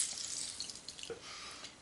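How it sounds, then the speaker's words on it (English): Water drips and trickles faintly from shredded onions being wrung out in a cloth over a sink or bowl, a soft, close spatter of small drops. "going to want to wring these out. Get all the moisture out of them."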